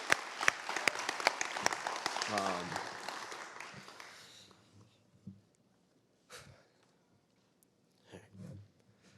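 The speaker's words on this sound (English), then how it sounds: "let's just give everyone a round of applause" Applause from an audience at a veterans' storytelling event fades out over the first four seconds or so, followed by a few scattered quiet noises and breaths.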